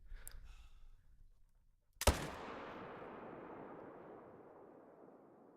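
A single loud rifle shot from the hunting game theHunter: Call of the Wild cracks out sharply, then its long echoing tail rolls away and fades; faint softer sounds come just before it.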